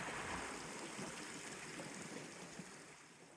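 Creek water flowing along the Pacific Crest Trail below a mountain saddle, a soft continuous rushing trickle, steady and fairly faint, heard alone with no voices.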